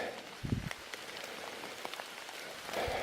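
Steady rain pattering on a surface along a hiking trail near Yellowwood Lake, with scattered drops ticking through and a couple of low dull knocks.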